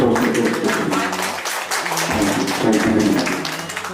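Audience at a film trailer launch event applauding, dense steady clapping throughout at moderate level, with a voice faintly mixed in.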